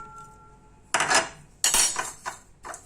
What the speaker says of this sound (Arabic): نقلب التتبيله خالص زي ما انتم شايفين كده